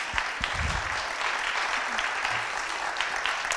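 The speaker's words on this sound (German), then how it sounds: "würde um ganz herzlichen Applaus bitten" An audience at a presentation of a final report on learning in the digital society claps in a continuous, moderately loud wash of applause. A few faint low voice fragments show up near the start.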